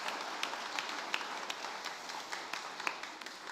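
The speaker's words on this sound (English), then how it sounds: "So big round of applause for Kevin." Church congregation applauding a youth director, a soft, continuous patter of many hands heard from a distance with scattered sharper claps.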